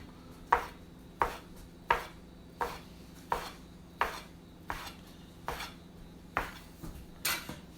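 A knife cuts ricotta gnocchi dough into half-inch slices on a floured board, giving about eleven crisp, evenly spaced chops close by, each one a sharp tap on the surface, with no talking.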